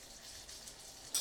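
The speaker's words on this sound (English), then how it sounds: "Now you can hear the oil's really sizzling." Oil sizzles in a pan as chicken fries for chicken parmesan, a soft, continuous crackling hiss close by that ends in a brief louder spatter.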